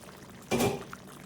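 Ricotta mixture pours into a hot skillet of lasagna in one brief, soft wet rush lasting about a third of a second, close by, with a faint drip after it and no talk.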